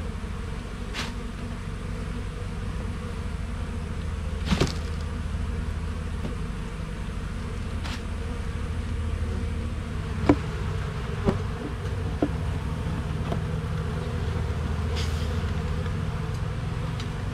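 Steady insect buzzing from a mass of bees, a continuous low drone with a few brief louder clicks and knocks nearby.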